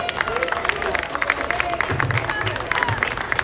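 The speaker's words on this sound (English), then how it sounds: "Give another round of applause." Crowd applause after a speech at an outdoor Palestinian flag raising ceremony in Paterson, New Jersey, steady clapping and murmur from many people, with a voice speaking over it.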